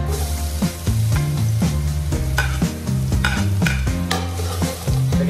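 Garlic sautés in hot oil at the start of cooking oxtail and tripe kare-kare, giving a steady sizzle with repeated close scraping stirs of a utensil against the pan and no talk.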